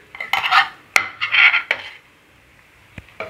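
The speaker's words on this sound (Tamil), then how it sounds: "இந்த மசாலா பொருள் பச்சை வாடை போகிற வரைக்கும் ஒரு 2 நிமிஷம் கிளறி விட்டுப்போம்" Masala spices of coriander powder, red chilli powder, turmeric and salt are stirred in a metal cooking pan for tomato rice, with a few sharp spoon scrapes and clanks against the pan, then quiet.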